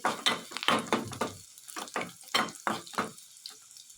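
Ginger, garlic and green chillies frying in hot oil give close, uneven bursts of crackling sizzle, with short gaps where the pan is stirred.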